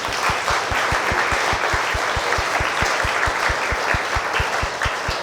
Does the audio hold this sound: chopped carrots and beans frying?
no